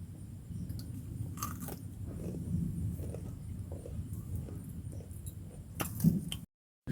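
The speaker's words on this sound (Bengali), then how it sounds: "শুধু বিস্কুট খাচ্ছ জল খেলে না" Someone eats biscuits close to the mic, with soft, steady chewing and a few crisp bites, fairly faint and with no talk.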